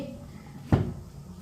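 A lid set onto a pot of simmering beef karahi, one near, solid clunk standing alone against a faint background.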